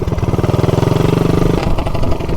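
A 420cc minibike engine launches hard, its loud close exhaust pulsing in a rapid steady rhythm that rises in pitch, then breaks into a rougher, choppier sound near the end.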